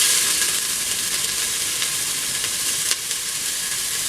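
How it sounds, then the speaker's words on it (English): Shallots or onions sizzle steadily in a hot Instant Pot insert, a loud continuous frying hiss close up with faint crackles and no talking. "You can hear it sizzling."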